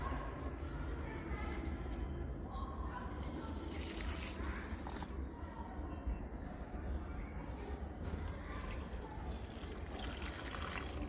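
Water pours steadily as potted plants are watered, a constant close splashing hiss that runs throughout while a person talks over it.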